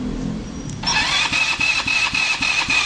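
A RUSI Passion 125 motorcycle whose engine has trouble starting is cranked and catches, settling into a loud, close, pulsing idle with a steady rhythmic putter and a faint high whine.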